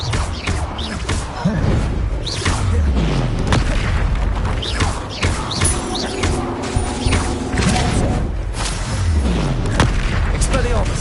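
Bombarda explosion spells in Hogwarts Legacy boom repeatedly through a dense, continuous barrage of combat noise, with booming impacts and crashes recurring over the whole stretch.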